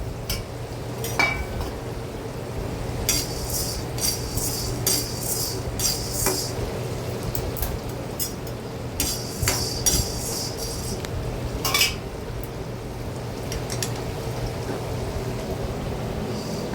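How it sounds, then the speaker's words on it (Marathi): Black pepper dry-roasts in a pan for a Ghati masala spice blend. A metal spoon stirs and scrapes with frequent light clinks over a low, steady background. No one speaks. "काळी मिरी भाजून घेऊया"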